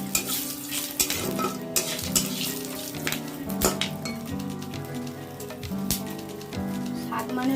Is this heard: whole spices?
yes